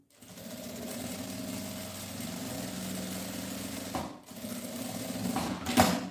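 Sewing machine stitching a handbag strap, a steady close mechanical whirring hum that pauses briefly around the middle, then resumes before ending with a short clatter.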